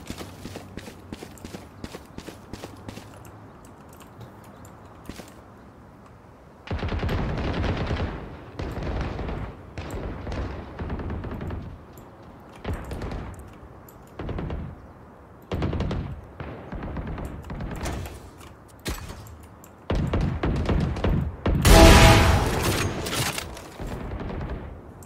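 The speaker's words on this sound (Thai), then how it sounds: "ถือปืนนี้ยิงไม่โดน" Video game gun firing in repeated bursts, loud rapid shots in clusters with brief gaps, the heaviest volley near the end, no clear voices.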